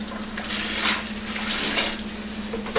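Juice is dumped into a glass carboy to rinse out fruit chunks while making chocolate-covered cherry wine, a continuous, close splashing pour that runs for the whole stretch without talk.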